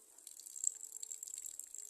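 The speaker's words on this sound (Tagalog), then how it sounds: "Ang tulo ng rampam." Faint trickling and dripping water from a homemade ram pump on a farm, a soft, irregular patter heard close and alone.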